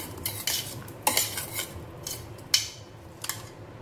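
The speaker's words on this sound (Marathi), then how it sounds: "काली मिरची टाकते, मिक्स करूया।" Black pepper gets stirred into a frankie salsa filling: a spoon scrapes and clinks against a bowl in irregular strokes, with a few sharper knocks over a low background hum.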